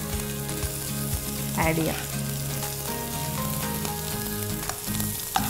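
Chopped ginger and garlic frying in a pan, giving a steady moderate sizzle with some stirring, under background music and a brief spoken word.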